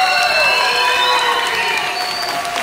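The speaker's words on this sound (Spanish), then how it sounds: "Un aplauso fuerte" Loud festival crowd applause at a migrant winter festival show, dense and sustained with cheering throughout, holding steady from start to end.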